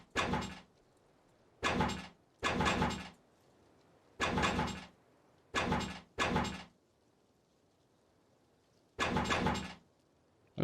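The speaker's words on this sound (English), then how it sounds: "We'll go ahead and slap a garage door on here." A garage door being placed on a base in the Rust video game, repeated loud mechanical rolling bursts, each about half a second long, in an irregular sequence of seven with quiet pauses between.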